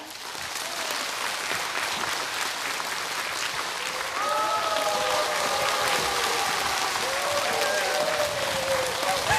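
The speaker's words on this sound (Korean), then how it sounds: "큰 박수로 맞아주시기 바랍니다." Audience applause welcoming a lecturer onto the stage at a KBS lifelong-learning academy lecture, a broad, even wash of clapping from a large crowd that holds steady and grows slightly louder, with a few voices calling out over it.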